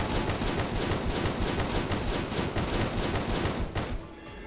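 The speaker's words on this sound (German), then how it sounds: "Das sind so viele Schüsse, ne?" Rapid, dense gunfire fills a fantasy role-playing game battle in TOME, a continuous barrage of loud shots with no pause, fading out in the final half second.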